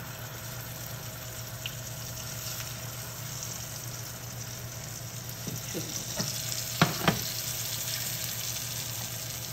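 A paste with turmeric is added to a pan and fries with a quiet steady sizzle, broken by a few soft utensil clicks near the end, under a low constant background hum.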